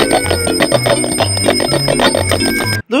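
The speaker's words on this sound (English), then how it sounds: "Okay, platypus, here's the bicycle. It's known for its famous bell." A toy-like bicycle bell rings in a quick repeated pattern over a steady electronic tune, loud and close for about three seconds before cutting off abruptly.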